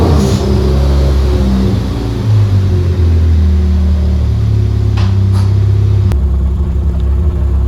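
A Ford Focus ST/RS engine pulls hard on the street, a loud steady drone and rumble that climbs and holds through repeated acceleration, with no talking over it.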